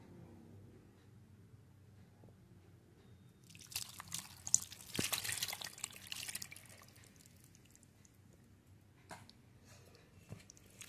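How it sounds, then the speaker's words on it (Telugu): Half a litre of water poured into fish curry in a pot, a faint, short splashing pour rising for a few seconds mid-clip then trailing off into quiet drips. "ఈ చేపల కూర ఉడకటానికి ఒక 1/2 లీటర్ వాటర్ వేస్తున్నానండి నేను"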